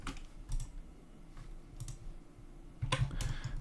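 Computer keyboard keys are struck in short bursts of clicks during a Revit modelling session. The typing comes in irregular clusters, close and moderately loud, with a firmer flurry near the end and no voice.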